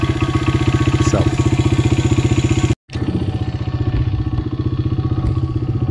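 A 1997 Honda XR100 dirt bike engine runs with a fast, even thumping beat, loud and close, cutting out briefly for a moment before continuing at a slightly changed, rougher rhythm. No one speaks.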